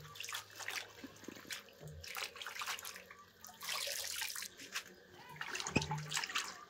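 Leafy greens, Malabar spinach from a home garden, being rinsed by hand in a basin of water in a home kitchen, giving intermittent close splashing and trickling sloshes that come and go over several seconds.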